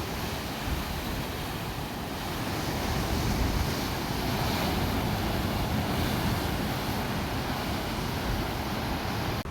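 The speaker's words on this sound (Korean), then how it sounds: "와, 파도가 진짜 높아요." High ocean waves crash on the Jeju shore after Typhoon Lingling, a loud, continuous roar of surf mixed with strong wind buffeting the microphone, with no talking.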